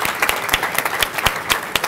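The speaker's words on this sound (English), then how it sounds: "Let's give a round of applause," An audience at an annual meeting gives a brief round of applause, with dense, sharp hand claps close by and no pause between them.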